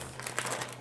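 A small plastic package bag crinkles and rustles as it is handled up close, a brief continuous crackling with no talk.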